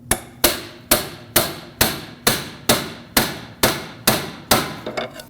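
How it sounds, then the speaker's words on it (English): A hammer strikes a pry bar again and again to punch a clamp off the bellows boot of an inner tie rod on a 2006–2015 Lexus IS250, landing about ten loud, evenly spaced metallic blows at close range. "I'm going to just go for the pry bar method and punch it off of there"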